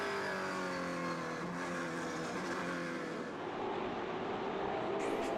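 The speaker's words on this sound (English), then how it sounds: "it's amazing when I watch the cars coming down that backstretch into 17" Race cars roar down a speedway backstretch, a loud, sustained engine drone with shifting pitch as several cars pass close by, continuous for the whole stretch.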